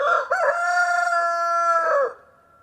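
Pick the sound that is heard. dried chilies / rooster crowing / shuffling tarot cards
rooster crowing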